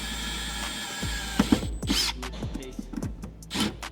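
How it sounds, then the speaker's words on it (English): A step drill bores a hole into the boot of a Mk7.5 R car, producing a steady whirring drone, followed by scraping, ratcheting bites and short clunks as the bit cuts through the metal. "It's always concerning when the step drill comes out"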